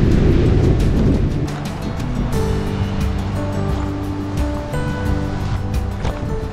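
A strong gust roars loudly through hillside trees at Roaring River State Park, Missouri, then settles into a sustained rushing wind with faint tonal whines beneath.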